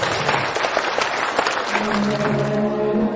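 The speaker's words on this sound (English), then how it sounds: "let's give a warm round of applause for His Holiness XVII Karmapa" An audience applauds His Holiness the XVII Karmapa at a welcome event, a dense, even roll of many hands clapping for about three seconds, with a faint musical tone rising beneath near the end.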